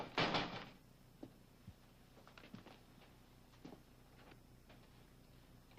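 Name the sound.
door being closed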